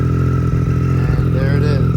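A 2018 Triumph Street Triple 765 RS motorcycle engine idles loudly and steadily from close by, with a low mechanical hum and faint clatter throughout and no distinct cranking burst.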